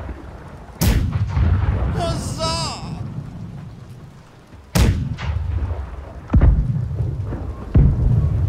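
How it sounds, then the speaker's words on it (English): Cannons fire from the left side of a ship in the naval game Blackwake, with four loud, booming shots spread unevenly over several seconds and a voice speaking between blasts. "Left side cannons, fire."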